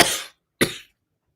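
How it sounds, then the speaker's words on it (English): Two short, sharp coughs about half a second apart, close and fairly loud, with silence after them during a live tarot reading broadcast. "When the cough comes, it comes."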